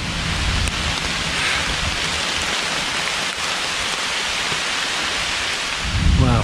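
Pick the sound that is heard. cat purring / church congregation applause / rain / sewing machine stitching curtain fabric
rain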